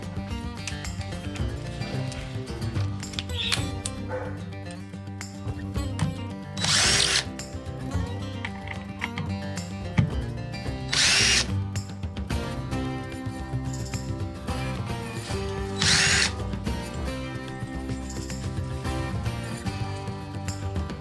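A power drill fitted with a Phillips bit drives screws into door strike plates. The motor whirs and grinds steadily, with sharp higher-pitched bursts as each screw tightens. It is close and loud, with no talk.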